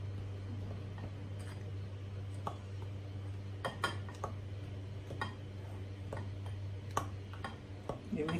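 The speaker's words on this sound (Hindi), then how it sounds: "इसको डाल के अच्छी तरह चम्मच के साथ मिक्स कर लें।" Metal spoon clinking and scraping in a bowl while stirring baking powder into flour (maida) for crispy cake rusk, giving irregular light ticks and taps over a steady low hum.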